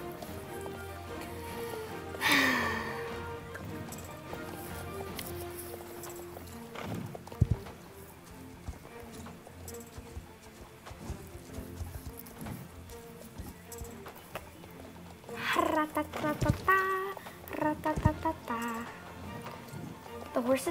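Rhythmic clopping of horse hooves galloping in the video game Star Stable, in bursts that rise and fade, over soft background music with a person talking.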